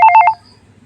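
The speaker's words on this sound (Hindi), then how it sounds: "आइडिया, मॉम के पास फोन करती हूँ" A phone keypad dialing a call, five quick evenly spaced tone beeps, loud and close, then quiet room hum.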